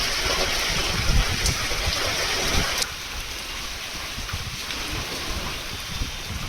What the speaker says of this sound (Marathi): पण अखेर तो पाऊस पडला